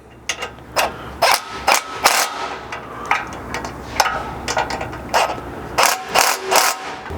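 A ratchet tightening the front bumper bracket bolts on a Chevy Colorado Z71 Trail Boss, heard as repeated bursts of sharp, loud clicking close up, with short pauses between strokes.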